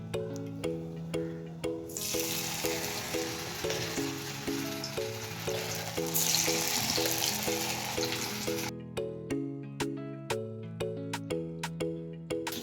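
Pennywort leaf fritters in a batter of wheat flour, turmeric, sugar and salt frying in oil, a dense hiss swelling then fading under steady background music with rhythmic melodic notes.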